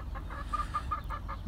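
A sick Brahma rooster with a swollen face and eye clucks in a quick run of six or seven short, nasal notes, close by over a low steady background hum.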